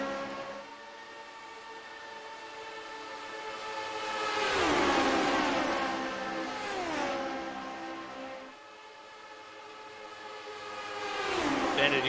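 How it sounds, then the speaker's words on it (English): Lotus 79 race cars with V8 engines lap an oval in a racing video game. Their high, sustained engine notes rise and then fall in pitch as the cars pass, in several loud sweeps across the stretch. "the V8s sound glorious on these cars"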